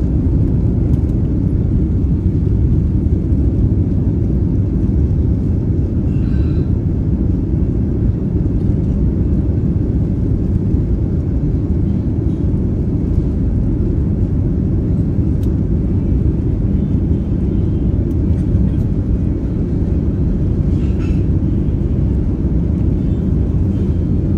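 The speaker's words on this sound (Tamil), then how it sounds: "இப்போ வந்து நம்மளுக்கு டேக் ஆஃப் ஆக போகுது, வாங்க பறப்போம்." A Thai Airways airliner on its takeoff roll from Chennai toward Bangkok, heard from inside the cabin as a loud, steady low engine roar and rumble that holds throughout, with faint clicks and no talk.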